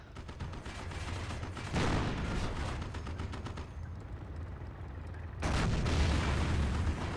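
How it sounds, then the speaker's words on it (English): An IS-2 heavy tank fires in Company of Heroes combat, heavy booming cannon blasts and rumbling battlefield gunfire continuous throughout, with a louder burst of explosions near the end. "IS-2 is firing away"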